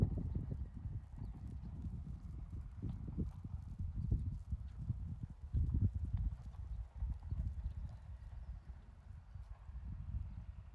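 A horse's hooves thud in a steady, rhythmic clip-clop while it is ridden over ground poles, moderately close and fairly quiet, with no talking.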